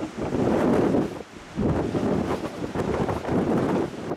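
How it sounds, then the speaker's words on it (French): Strong coastal wind at Land's End buffets the microphone in loud, rumbling gusts, with a brief lull near the middle and the faint wash of the sea beneath. "Mais le vent il va passer."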